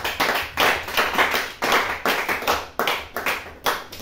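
Congregation at a Christian gathering claps in a steady rhythmic beat to acclaim Jesus, sharp close hand claps repeating about twice per second for several seconds.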